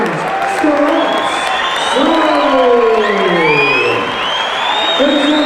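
A fight-night crowd cheers and whoops for the winner, loud and continuous, with shouting voices sweeping over the roar throughout.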